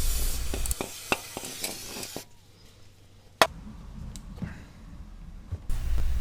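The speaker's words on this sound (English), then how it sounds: "I just used some brake cleaner to see if it's leaking in the future." Brake cleaner hisses from an aerosol can while working on a Nissan Leaf reduction gear oil change. A steady spray runs for about two seconds, stops, and a second longer burst follows. Scattered clicks and sharp knocks surround it.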